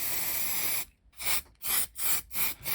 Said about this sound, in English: I'm going to spray with some silicone release spray type stuff